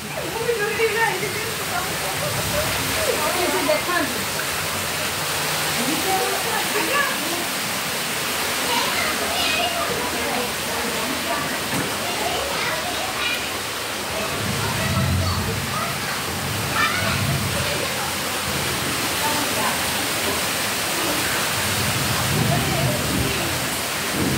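Heavy rain and floodwater rushing into a government housing quarter in Bhubaneswar, a loud, continuous roar of pouring and splashing water, with voices talking faintly underneath.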